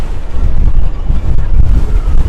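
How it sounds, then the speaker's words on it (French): Strong gusts of wind buffet the microphone, a heavy low rumble that swells and drops in uneven surges, loud and close. "C'est un petit coup de vent."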